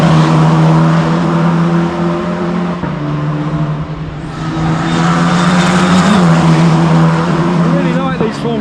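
Formula 4 race cars roar at the Bang Saen street race by the beach in Thailand, a continuous loud engine drone with cars sweeping past, and crowd or commentary murmuring underneath.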